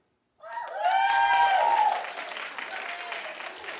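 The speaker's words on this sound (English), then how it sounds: "Let's do a clap poll." A studio talk show audience breaks into applause during a clap poll, a loud burst of many hands clapping with some whoops and cheers that swells and then tapers off.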